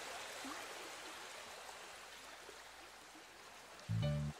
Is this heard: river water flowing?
yes